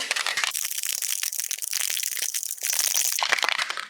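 A cocktail tin holding a daiquiri mixture, shaken hard without ice, gives a loud, continuous rattling clatter in rapid rhythmic bursts, close up and alone, with a brief dip near the end before the shaking resumes.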